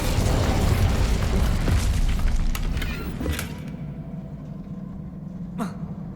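Incendio fire spell cast in Hogwarts Legacy, a loud whooshing burst of flame that roars for a few seconds and then tapers off, followed by a few faint pops and a brief sharp zip.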